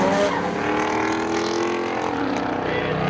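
Race cars at the Seekonk Speedway spectator drags head into the corner, a steady, loud engine drone with layered harmonic whine that holds through the short stretch.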